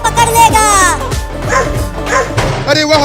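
Cartoon dog barking and yipping in a rapid series of loud, high, bouncy barks with whimpering tones, close and continuous over a lively animated scene.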